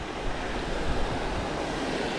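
Steady wind rushes and buffets against the microphone beside a small creek in West Texas, a broad continuous roar with slight gusts, no voices present.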